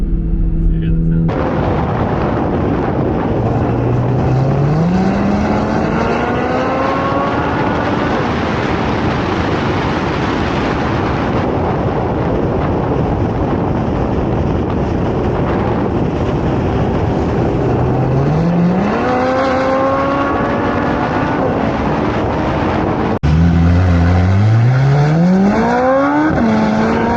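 A 2023 Chevrolet Corvette C8 Z06 engine revs and pulls through rising gears while driving, loud and close, in touring and then sport mode, with repeated climbing accelerations and a harsher burst near the end.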